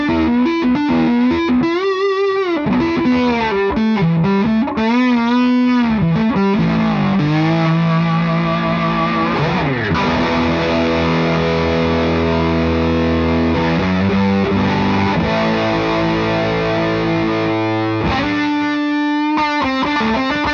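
Electric guitar with a P90 pickup runs through fuzz distortion, playing loud, sustained saturated chords and riffs with bending notes, alone and continuous throughout.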